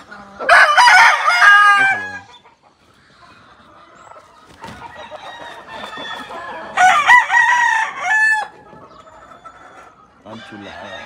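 Roosters of a lechuzo line crow loudly and repeatedly on a farm, several long cock-a-doodle-doo calls close by with brief clucking between them.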